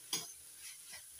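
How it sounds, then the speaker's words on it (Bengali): A spoon stirring red amaranth greens with ghee in a frying pan gives a few soft scraping strokes over a faint sizzle, quiet and close, with no talk. "এবার শাকের সঙ্গে ঘিটা ভালো করে মিশিয়ে নিচ্ছি।"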